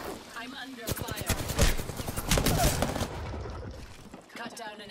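Automatic weapon fire sounds in a close firefight in the video game Apex Legends: sharp, rapid bursts of shots in quick succession, loud and near, with voice lines at the start and end.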